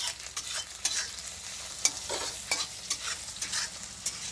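Onions frying in a pan with a slit green chilli and a pinch of salt, stirred with repeated scraping strokes over a steady crackling sizzle, close and moderately loud, with no talking.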